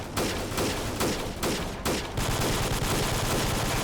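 Rapid gunfire in the video game S6 Freeman Guerrilla Warfare: a run of loud repeated shots in quick bursts, followed by sustained dense firing that fills the scene, with no talking.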